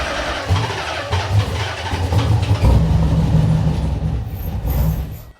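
A Nissan Z's engine cranks and catches after being rewired, a loud, steady low rumble that settles into a continuous idle, close up and with no talking.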